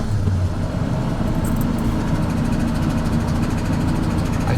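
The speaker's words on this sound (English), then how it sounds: "let's see if this truck will start" An old Ford bullnose pickup truck engine runs at a steady idle, a constant low rumble with a faint high whine, close and alone with no talking.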